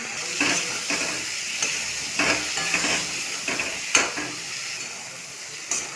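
Spice masala with potato, salt, turmeric, cumin, coriander and chilli powder sautéed with a little water for sorputi fish curry, a steady close sizzle and hiss broken by brief stirring scrapes, with no voices.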